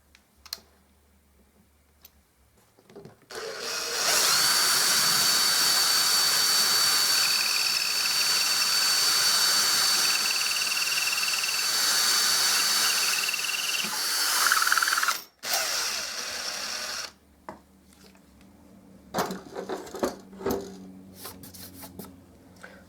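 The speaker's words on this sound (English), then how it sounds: "And then just drill this out." A power drill bores into filler in a wall for a loose wall plug, a steady high whine of roughly ten seconds, followed by faint tapping and handling noises.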